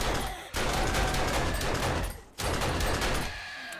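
Rapid gunfire bursts from a zombie horde fight in the video game 7 Days to Die, dense and loud, with two short gaps between the volleys and no voice over them.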